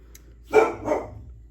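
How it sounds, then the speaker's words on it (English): A dog gives two quick barks nearby, fairly loud, in a short double burst followed by quiet. "The dogs might start barking."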